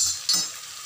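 Kajjikaya pastries frying in hot oil in a pan, a brief bright sizzle with a short burst as a piece drops in.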